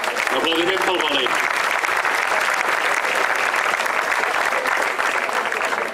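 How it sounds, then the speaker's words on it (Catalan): An audience at a havaneres concert during the 2018 Festa Major breaks into loud, dense applause that holds steady throughout. A voice speaks briefly at the start. "Un aplaudiment pel valent."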